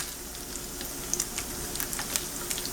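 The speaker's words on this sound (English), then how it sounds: "I'm cooking up some bacon for breakfast. I'm adding in some extra oil to it" Bacon fries in a pan with extra added oil, giving a steady, soft sizzle with scattered small pops and crackles, close and fairly quiet with no talk.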